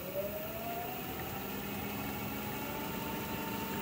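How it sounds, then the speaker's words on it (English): A wood lathe spins at around 500 RPM while turning a 15-inch birch platter, giving a steady, continuous mechanical hum with a faint rising whine, close by and with no talk over it. "So you're supposed to have the lathe running around 500 RPM."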